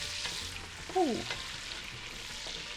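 Bacon sizzles and crackles in a hot pan, a steady close hiss, with a brief murmured exclamation near the start.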